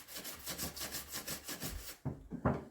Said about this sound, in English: So basically I'm just going to keep scrubbing away.